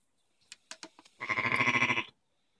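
A ewe on a farm at lambing time, close by, bleats one long wavering cry after a few short clicks and rustles, then falls silent.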